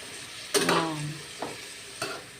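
A utensil stirs a budget meal with string beans in a pan over a quiet sizzle, making one longer scraping sweep followed by two short knocks against the pan, close by and without talking.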